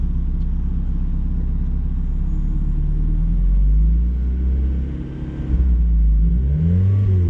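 Engine of a 2019 Mazda Miata rumbles steadily, then surges and revs up near the end as too much gas is given, a close, continuous droning with rising tones and no talk.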